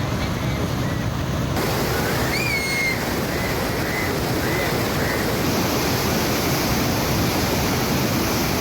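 Floodwater from the swollen Chenab surges through the overflowing Palkhu drain in Wazirabad, a constant loud rushing roar that never lets up, with a few faint high chirps near the start.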